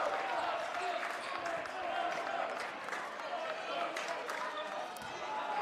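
A crowd at a high school lacrosse final, East Meadow against Massapequa, murmurs and rises with excitement in a broad, steady roar, with scattered claps and thumps under a commentator's voice.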